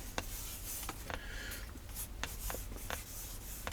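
A pencil sketches a portrait on paper, close and quiet, with repeated scratchy strokes of varying length in an irregular rhythm.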